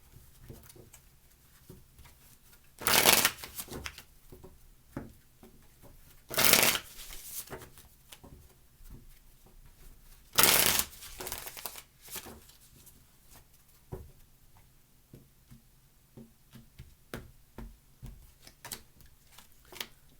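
Three quick bursts of tarot cards being riffle-shuffled, a few seconds apart, with soft taps and handling noises in between in an otherwise quiet room.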